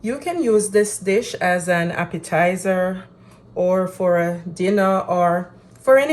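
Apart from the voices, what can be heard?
No everyday noise stands out behind the speech.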